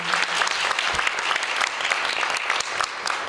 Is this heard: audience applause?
yes